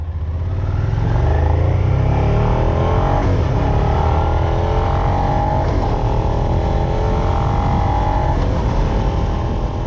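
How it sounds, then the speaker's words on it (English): A 2019 Suzuki SV650X with a 645cc V-twin revs hard and climbs through gears, its throbbing engine note rising in pitch in repeated sweeps, loud and close with no talk. "V-twins have a distinct character and sound that you simply don't get from inline 2s."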